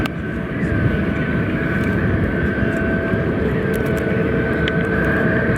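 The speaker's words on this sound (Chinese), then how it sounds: "这是一架南方航空的空客的 A321机型" A China Southern Airbus A321 at Guangzhou Baiyun airport produces a loud, continuous engine roar with a steady whining tone, unbroken throughout.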